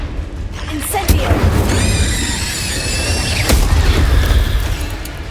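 Hogwarts Legacy Incendio fire spell: a sharp crack followed by a sustained roaring, crackling whoosh with a bright ringing tone, over constant low rumbling combat noise.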